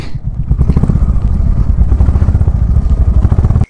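A motorcycle engine chugs loudly and close in a fast, even low thump as the bike rolls into Deolo Park, holding steady for the whole stretch before cutting off abruptly at the end.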